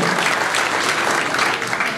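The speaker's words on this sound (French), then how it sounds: "On peut s'applaudir pour cette réussite." Dense audience applause at a New Year's greetings ceremony, a steady, loud wash of many hands clapping with no pauses and no voices over it.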